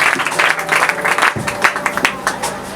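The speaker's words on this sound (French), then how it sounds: "On acclame très très fort." A church congregation claps and cheers loudly at an elders' consecration service, the crowd's applause sustained and dense throughout, with voices mixed into the noise.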